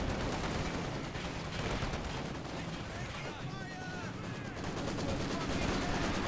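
Sustained battle gunfire from a Maxim machine gun in the WWII strategy game Company of Heroes 2, dense overlapping bursts and shots running continuously at steady loudness, with a voice talking over the fighting.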